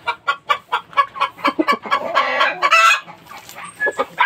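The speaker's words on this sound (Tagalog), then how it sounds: "Dami yung inahin dito guys." Hens at a gamecock breeding yard cluck in a steady stream of short, repeated calls, with a denser burst of overlapping squawks midway, all close and fairly loud, with no talking.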